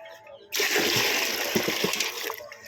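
Water gushes and splashes as it is poured during a Hindu Narayan Bali ritual, a steady loud pour that starts abruptly and runs for about two seconds, with faint chanting voices nearby.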